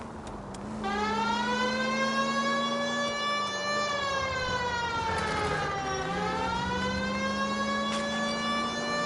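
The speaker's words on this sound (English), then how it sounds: "Have you got something against the siren?" A police car siren in the video game LA Noire wails in long rising and falling sweeps, loud and continuous, with a steady engine hum beneath it.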